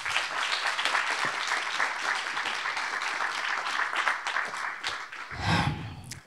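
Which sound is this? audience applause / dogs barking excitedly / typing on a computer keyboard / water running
audience applause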